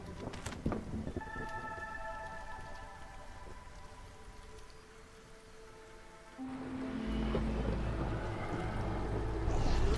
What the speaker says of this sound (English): As much as acid rain sucks.